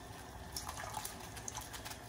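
Aji-Mirin sweet cooking rice seasoning is poured into a bowl of water in a kitchen, making a faint, short trickle and splash with a few small clinks. No one speaks.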